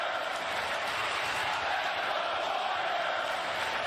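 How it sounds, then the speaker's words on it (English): Large arena crowd at an NBA game, Pelicans versus Warriors, roaring in a steady, dense wall of cheering and applause that holds evenly throughout with no break. "Boy, listen to that cheer. That's not canned noise."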